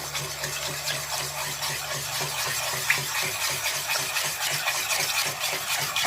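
Cake batter being stirred in a bowl, a steady wet scraping and sloshing with a fast repeating rhythm, close and moderately loud, with no voices.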